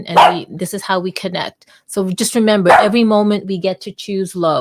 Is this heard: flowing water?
no